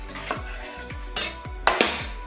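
A knife cutting a banana out of its skin, a few soft repeated cuts and light taps against a board or dish, close and quiet.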